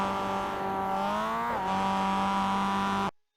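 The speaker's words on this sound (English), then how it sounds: "You could definitely hear some engine noises as we got over the crest there." A Mazda MX5 racing uphill at Mount Washington, its engine holding a loud steady harmonic drone that dips briefly as the pitch shifts mid-climb, then carries on near and strong before cutting off abruptly.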